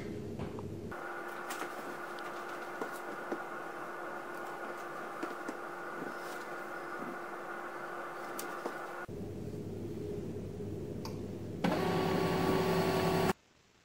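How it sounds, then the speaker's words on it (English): An HP LaserJet MFP M234dw laser printer restarting after a factory reset, with a steady whirring mechanical hum for several seconds, a brief quieter pause, then a louder buzzing motor burst before it cuts off. "You will notice that the printer will restart"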